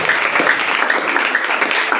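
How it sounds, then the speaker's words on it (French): An audience applauds during a church sermon, a steady and fairly loud wash of many hands clapping that lasts the whole moment without letting up. "Est-ce qu'on peut acclamer la parole?"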